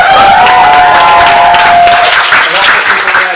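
A comedy club crowd at a standup night cheers and applauds loudly and steadily for a first-time comic, with whoops and voices mixed into dense clapping throughout.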